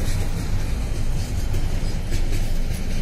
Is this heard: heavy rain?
no